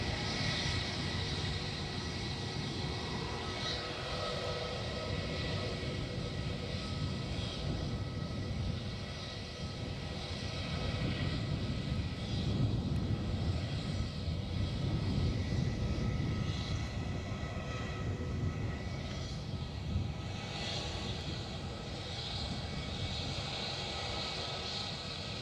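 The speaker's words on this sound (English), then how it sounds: "EasyJet inbound from Lisbon coming in" An EasyJet airliner inbound from Lisbon on approach to land near Edinburgh, a steady distant jet engine roar that swells slightly midway and holds without speech.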